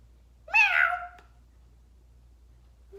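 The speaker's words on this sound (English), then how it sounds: "Just an old cat, Snitch said" A single drawn-out cat meow, clear and fairly close, lasting about half a second, followed by quiet.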